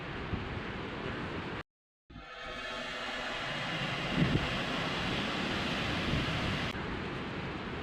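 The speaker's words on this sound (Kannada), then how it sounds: "ಗಾಳಿ ಬರ್ತಾ ಉಂಟು, ಗಾಳಿ ಬರ್ತಾ ಉಂಟು" Wind blows at a beach campsite on the seashore in a steady, loud, broadband roar that buffets the microphone, broken by a brief sudden dropout near the start before the rushing resumes.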